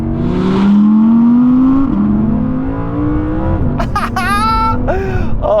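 A powerful Audi R8 RWD engine revs hard to 8,500 RPM and climbs steadily in pitch, loud and close, with gear changes and a voice speaking briefly over it near the end.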